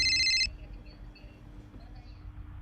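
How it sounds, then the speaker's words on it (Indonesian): A mobile phone rings during a family dinner: a short electronic ringtone burst at the start cuts off abruptly, leaving faint room murmur and low background noise. "Tiba-tiba, handphone Pak Dio berbunyi"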